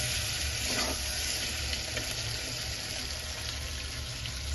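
Potatoes sauté with cumin paste in a pan for an egg curry, giving a soft, continuous sizzle with faint stirring scrapes at moderate distance.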